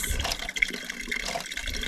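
Spring water pours through a makeshift funnel on a creek trail, a short close gurgling fill with splashing, no voices.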